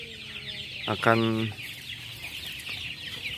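Joper chickens and their hens cluck and squawk in a coop during morning feeding, with one loud call standing out amid steady background hens while someone speaks faintly.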